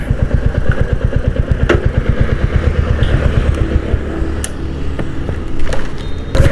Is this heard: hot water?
no